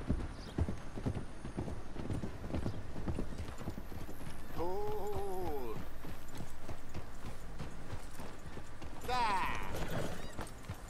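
In Red Dead Redemption 2, horse hooves clip-clop in a steady, close rhythm while a horse whinnies twice, once midway and again near the end; a voice briefly speaks.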